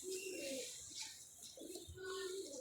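A domestic pigeon kept by a hobby breeder coos softly in repeated low, drawn-out calls, faint and close, with faint background noise and no talk.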